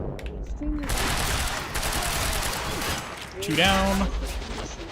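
Rapid automatic gunfire from the video game Quantum Break roars steadily and loud, then gives way to a brief burst of electronic tones with someone speaking under it.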